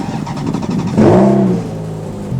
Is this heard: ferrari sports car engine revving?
yes